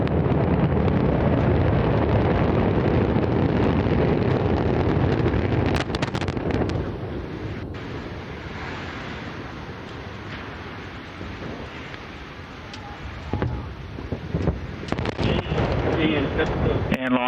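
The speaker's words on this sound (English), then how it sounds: "And we have liftoff of Antares" Antares rocket main engines roaring at liftoff on a Cygnus cargo launch to the ISS, a loud, sustained broadband rumble with crackling bursts throughout, with launch-control voices talking over it.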